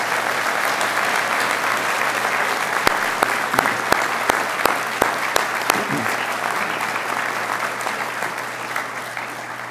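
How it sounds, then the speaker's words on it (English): An audience at a university presidential inauguration ceremony at the California Maritime Academy applauds steadily for about ten seconds, dense crowd clapping with a few louder sharp claps standing out. "round of applause for our platform party"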